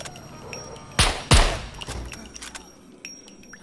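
Two sharp gunshots a fraction of a second apart in the survival video game SCUM, loud and close, followed by faint ambient game noise.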